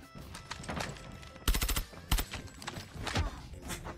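Unsuppressed gunfire from a skinned weapon in a video game, bursts of sharp rapid shots with two loud volleys standing out among quieter scattered pops and game noise.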